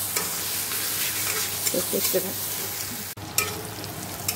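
Greens fry in an iron wok on a home kitchen stove, giving a steady close sizzle broken by scraping stirs, with someone briefly speaking over the cooking.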